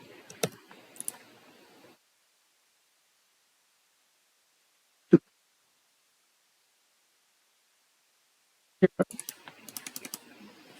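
Typing on a computer keyboard during Revit software work: a few quiet, close clicks at the start, one sharp isolated tap midway after silence, then a quick flurry of keystrokes near the end.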